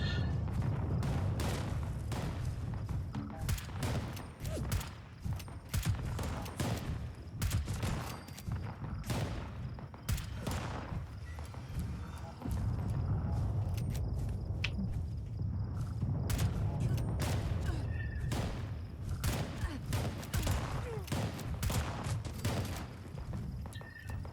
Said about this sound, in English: You can also set up the auto turret here to actually start shooting this Scorch Beast with some rockets.